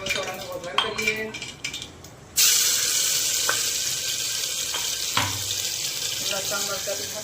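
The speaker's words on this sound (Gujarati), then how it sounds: "હું ચોળા વઘારું છું" Boiled cowpeas are tipped into hot oil for tempering. A few clinks of pots and utensils come first, then a sudden loud sizzle bursts up and settles into a continuous frying hiss with small spatters.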